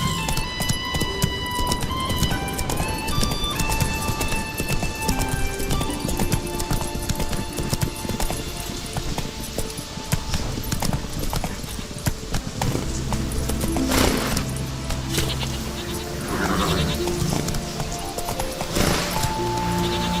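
A horse gallops in The Witcher 3: Wild Hunt, a steady rapid drum of hooves under a constant, loud wash of game music and ambience, with a few sharper clatters later on.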